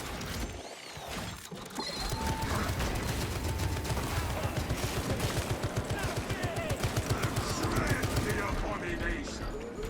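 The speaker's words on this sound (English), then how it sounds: "Activating tarantula sentry gun." A tarantula sentry gun in Space Marine fires a steady, rapid stream of shots for several seconds, dense and loud amid chaotic battle noise, with a voice speaking over it.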